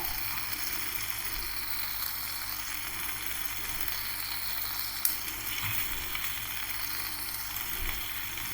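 Spices frying in oil in a pan for a Rajasthani spicy dahi mirch dish, with asafoetida and ground masala added, give a steady close sizzle. A few faint scrapes of stirring and one sharp click rise over it, with no talk.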